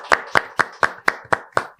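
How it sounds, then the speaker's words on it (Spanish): Seven sharp, evenly spaced bursts of clapping from a studio audience at a Spanish-language podcast taping, loud and close, with no talk over them. "Un aplauso, Super Juancho."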